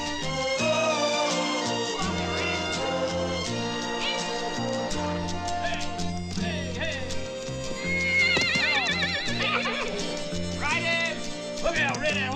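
A horse in a Western film scene whinnies loudly over a continuous orchestral score, with hoofbeats and shouted voices mixed in.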